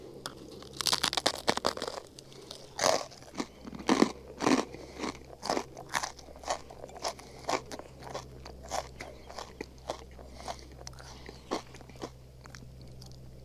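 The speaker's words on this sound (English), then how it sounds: "Chips have a good crunch, but a little subdued." Potato chips crunch between the teeth in a long run of sharp, close bites and chews, loud at first and then settling into a steady chewing rhythm, with no voices.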